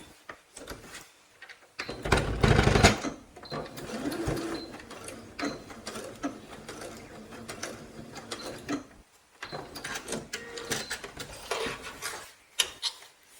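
A home sewing machine runs in short, close mechanical bursts while tacking a few small stitches along each side of a zipper, the whirring needle pausing between runs with a quieter gap near the middle.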